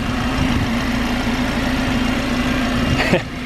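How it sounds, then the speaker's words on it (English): Idling 2020 Toyota Supra four-cylinder engine with the hood open, a steady close drone with a constant hum throughout, ending in a brief sharper burst near the end. "I guess you can't really tell, but that's a 4-cylinder. 4-cylinder Supra in Japan."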